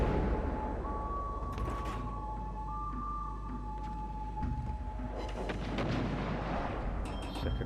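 Warship secondary guns firing in a naval video game, a continuous din of rumbling gunfire with scattered sharper cracks, dense and steady throughout, with a few tonal whistles over the top.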